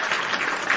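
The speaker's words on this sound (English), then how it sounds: "Round of applause for Ray Phoenix." Brief applause for the returning guest Ray Phoenix on a live wrestling talk show, a short burst of steady clapping heard on its own.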